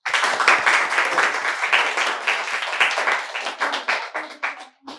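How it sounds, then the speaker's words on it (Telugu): Guests applaud during a felicitation for ashram staff at a natural-healing ashram: dense, steady clapping from a group nearby, thinning toward the end with a few last scattered claps. "చప్పట్లు."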